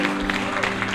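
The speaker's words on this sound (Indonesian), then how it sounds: "Berikan tepuk tangan kepada Yesus." Church congregation at a prayer service claps hands together in a sustained, loud burst of applause, with a steady musical tone humming underneath.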